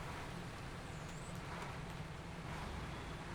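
Heavy logging truck engine idling and rumbling in SnowRunner, a steady low drone with broadband wind-like noise held at even loudness throughout, no talk.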